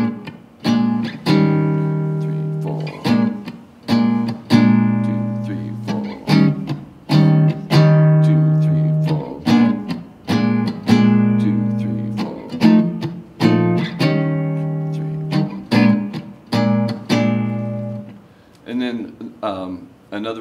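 Electric guitar playing a 12-bar blues rhythm pattern with an added accented attack on beat three, steady repeated strummed chords with sharp percussive hits, loud and close with no talking over it.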